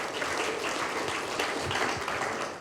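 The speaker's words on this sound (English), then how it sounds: "Time for that round of applause" An audience at a small producers' launch event gives a steady round of applause, dense clapping that holds even throughout and sounds moderately close.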